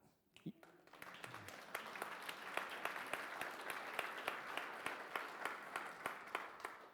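A church congregation at a Sunday morning service claps, scattered distinct hand claps building into steady applause after a short spoken moment at the start.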